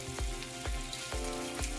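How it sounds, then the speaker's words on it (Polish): Potato and zucchini pancakes with onion frying in heated oil: a continuous soft sizzle and crackle, close and fairly quiet, with a few faint knocks at regular intervals and no talk. "Smażymy teraz placki na rozgrzanym oleju."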